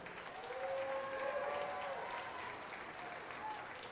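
An audience at a sheep showmanship event at the North Idaho State Fair claps for the Pee Wee showmen, steady applause from a crowd at moderate distance, lasting throughout.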